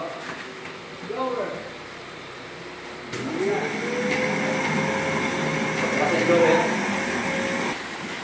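A steady swimming pool air blower hums continuously, starting abruptly after a few seconds of voices as a valve is opened; people talk briefly before and over the droning noise.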